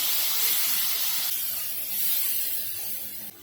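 Kharda masala paste added to a hot pan of softened onions, a steady close sizzle and steam hiss that eases slightly and drops off sharply at the end, without speech.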